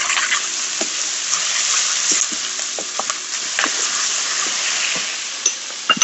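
Sweet peppers sizzling in a hot pan with celery, garlic and browning onion, a steady loud frying hiss broken by crackles and pops as the vegetables are stirred, with no talking.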